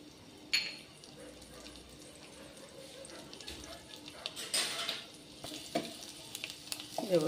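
Finely chopped garlic fries in ghee for broccoli soup, a soft, steady sizzle with intermittent stirring knocks and scrapes that grow busier toward the end.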